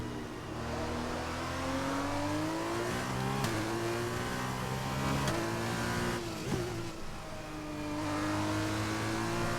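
Formula 1 car engine in the F1 2021 racing game at the Dutch Grand Prix, a loud, steady high-pitched whine that climbs through the revs, drops sharply at each upshift and keeps rising across a lap.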